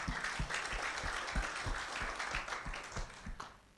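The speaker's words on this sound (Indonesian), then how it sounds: "Tepuk tangan dulu untuk Bapak Ibu" Audience clapping at a sales seminar, a moderate round of hand claps with fairly distinct rhythmic beats, steady for several seconds before fading out, with no talk over it.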